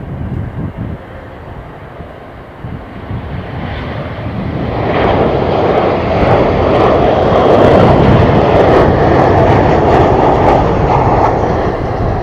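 Qantas airliner jet engines on a flight at Brisbane, a loud rumbling roar that builds from a quieter start and then holds steady and heavy, close by with no talking.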